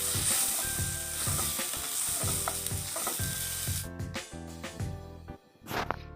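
Tomatoes sizzle and fry in a pan for palak paneer, a steady loud hiss with repeated clinks and scrapes of a spatula stirring, easing off near the end.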